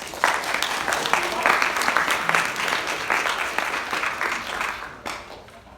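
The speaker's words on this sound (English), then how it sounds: "Round of applause for Theodore." In a university policy lecture, a classroom audience claps for a presenter, brisk applause that holds steady and then tapers off near the end, with a voice briefly heard under it.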